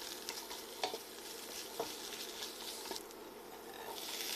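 Onions, garlic, walnuts, spices and tomato paste sauté in a little oil, giving a close, busy sizzle with a few sharp stirring scrapes and soft crackles throughout the short stretch.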